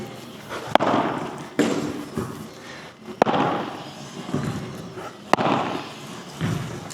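An AI tennis robot reprogrammed for padel launches balls with sharp pops roughly every one to two seconds, each shot followed by a thumping rumble on a court, with faint voices in the background.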